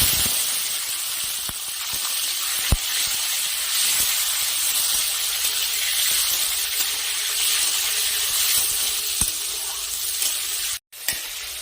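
Chopped tomatoes frying in hot oil with black cumin seeds for a cauliflower and koi fish dish: a loud, steady sizzle and hiss with a few brief clicks, cutting out abruptly near the end.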